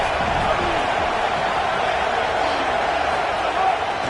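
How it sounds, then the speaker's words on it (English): A home crowd at a football game keeps up a loud, steady roar of cheering and noise that fills the stadium without letup. "Now this home crowd making life difficult."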